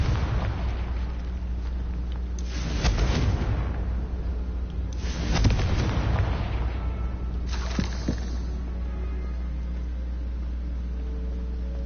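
Confringo fire spells blasting in Hogwarts Legacy, three heavy booming explosions a couple of seconds apart, each a rumbling burst that dies away over a steady low hum.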